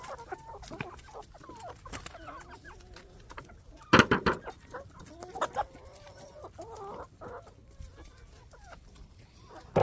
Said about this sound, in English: These are what I call my teenager chickens over here.